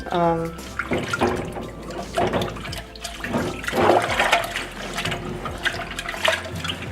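Soapy water swishes and splashes in a sink as a dirty, baked-on dish is scrubbed with a scrubby pad, wet sloshing throughout with a voice talking over it.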